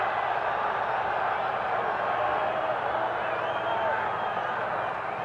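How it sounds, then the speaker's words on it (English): Stadium crowd at a 1980 South Carolina at Georgia college football game, a dense, steady roar of many voices rising into a defensive chant, loud and continuous throughout with no pauses. "Crowd coming up. Yelling defense for Georgia."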